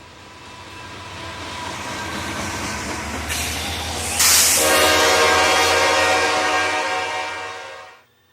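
A CSX grain train rumbles steadily past outdoors, with a loud, sustained horn blast rising over the rolling wheel noise before the sound cuts off.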